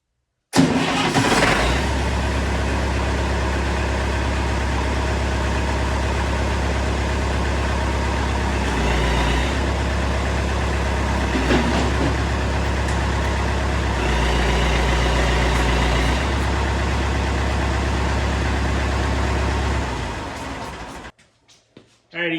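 A 50-year-old tractor engine cranks, catches and settles into a loud, steady, close idle that runs without a break for about twenty seconds before it cuts off.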